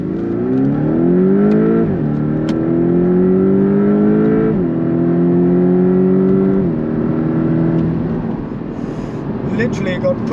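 Porsche 718 Cayman with a 2-litre turbocharged four-cylinder accelerating hard through the gears, a loud, close, steady engine drone that climbs in pitch and drops back at each of three upshifts.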